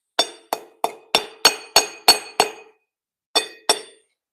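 A smaller hammer rings against hot metal on an improvised swage block at a forge, with eight sharp, evenly spaced metallic strikes, a pause, then two more close-up clinks.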